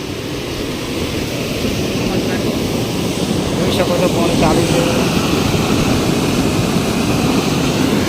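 Water rushes through an open canal gate into a river at Dantiwada, a loud, steady broadband roar that holds constant throughout, with a brief faint tonal sound partway through and no talk.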